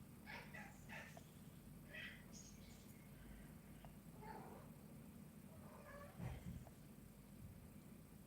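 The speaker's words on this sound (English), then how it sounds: "she's just chirping away over there at the window" A kitten chirps at a window in a quiet room, giving several short, faint trilling calls spread across the clip over a steady low background hum.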